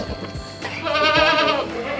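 An Etawa crossbreed (PE) goat bleats once with a long, wavering, nasal cry, close and loud, after a few brief rustling knocks on a village livestock farm.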